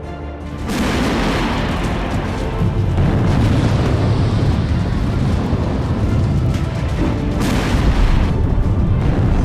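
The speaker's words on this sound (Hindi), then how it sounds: "आसमान से टारगेट पर नॉन स्टॉप अटैक और जमीन पर तेज धमाकों के साथ तबाह होते रशियन" Battlefield explosions in war footage from the Russia–Ukraine fighting near Pokrovsk, with airstrikes hitting Russian tanks and armoured vehicles: a dense, continuous barrage of loud booms and blasts, with heavier bursts near the start and end.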